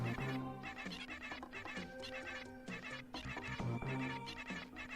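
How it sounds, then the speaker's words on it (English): Game birds in the Super Metroid/Zelda randomizer chirp a melodic tune, tonal repeated chirps forming a looping musical phrase over a layered synth soundtrack, with no voices. "They're totally chirping out the Metroid theme."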